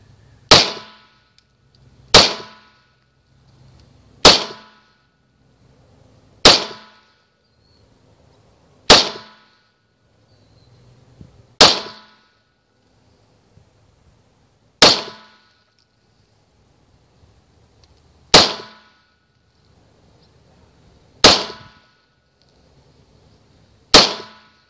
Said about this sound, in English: We have a 9mm gun. Just kind of shoot around, kind of like a shooter would,